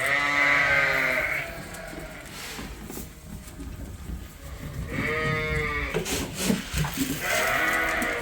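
Sheep ewes and lambs bleat at the feeders, with loud overlapping calls near at hand. Two long, wavering bleats stand out against a background of shuffling and jostling.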